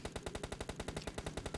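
Rapid automatic gunfire from a weapon in the mobile battle royale game PUBG Mobile Lite, a steady burst of about fifteen evenly spaced, loud shots with no talking.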